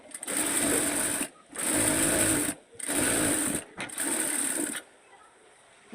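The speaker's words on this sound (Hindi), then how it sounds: "अब इसको हम इस तरह से पलट देंगे और अस्तर के ऊपर फिनिशिंग सिलाई लगानी है।" Sewing machine running a finishing seam over the lining of a long sleeve, in four steady whirring bursts separated by short pauses, close and loud, with a quiet gap at the end.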